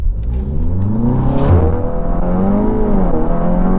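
An Audi TT 8S 2.0 TFSI tuned to Stage 1.5 launches hard in a 0–100 km/h run. The engine note climbs loud and close through rising revs, breaks briefly at a gear shift, then keeps pulling strongly, heard from inside the car with no talk.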